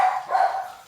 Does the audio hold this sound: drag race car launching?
no